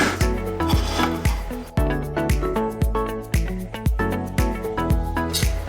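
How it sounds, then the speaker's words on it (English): Tiny screws are driven into small holes in plastic feeder parts, giving a close series of short scratchy ratcheting turns in an uneven rhythm, with no talking. "These are really small screws and really small holes. So just line it up and screw it in."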